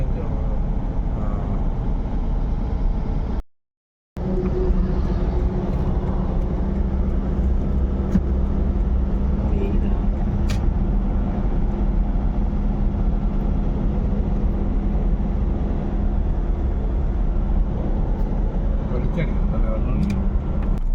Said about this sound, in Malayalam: ഓൺ വണ്ടി ഓടിച്ചുകൊണ്ടിരിക്കുകയാണ് സുഹൃത്തുക്കളെ